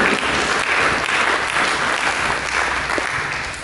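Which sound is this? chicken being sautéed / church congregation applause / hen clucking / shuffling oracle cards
church congregation applause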